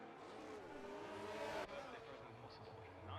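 Several race cars battle closely in a video game race at Canada, engines droning and whining steadily as they run together, with a sharp shift partway through.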